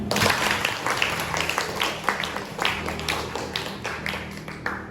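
A classroom of students claps together in a burst of scattered, uneven hand claps that fades slightly toward the end, with no talking over it.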